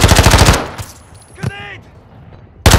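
Gunfire in Call of Duty MW3 DMZ, a loud burst of rapid automatic fire that cuts off, then a brief game voice cue in a quiet gap, and the burst starts again at the end.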